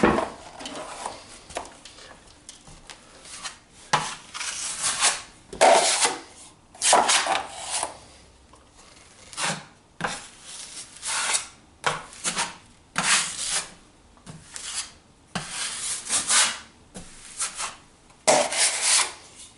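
Drywall mud spread with a knife over old wood paneling, heard as repeated scraping, rubbing strokes in uneven bursts, close and fairly quiet, with no talking.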